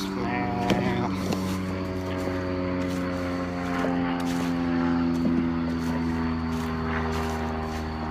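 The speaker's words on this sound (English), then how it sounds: "Airplanes." A steady propeller-aircraft drone hums overhead throughout, with faint voices now and then underneath.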